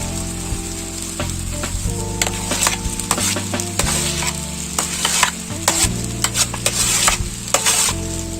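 Mixed vegetables with peas stirred gently and fried in masala, giving a loud, close sizzle with clustered scraping strokes against the pan and a low steady hum beneath.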